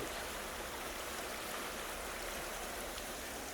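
Rushing water roars steadily and loudly, a flooded creek churning nearby at Falling Creek Falls park in Lake City, Florida, with no pauses and no voices.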